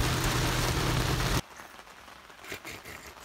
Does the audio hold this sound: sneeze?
no